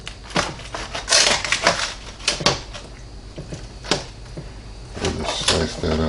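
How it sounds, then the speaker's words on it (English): A knife slicing through smoked beef brisket from a Green Mountain Grills Daniel Boone pellet grill, giving a series of sharp crunchy cuts and scrapes against a board, close and irregular, with short pauses between strokes. "I'm just going to cut a piece off of here for our official taste test."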